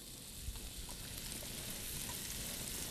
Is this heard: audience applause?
no